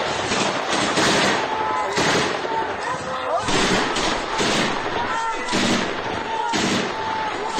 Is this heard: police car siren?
no